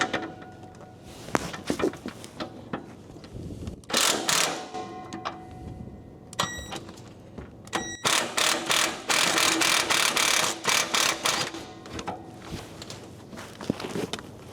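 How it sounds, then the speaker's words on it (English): Impact wrench spinning a nut off a car's rear end, delivering several close, loud bursts of rapid hammering separated by short pauses, with clanking of tools and metal between bursts. "Slap the impact socket on the impact wrench."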